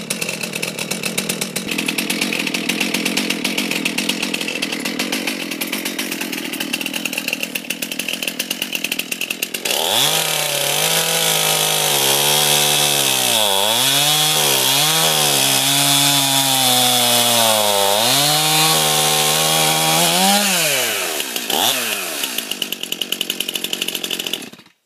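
Freshly sharpened chainsaw idling and warming up, then revving hard and biting into wood for about ten seconds of loud, varying cutting snarl before dropping back to idle and shutting off, very close.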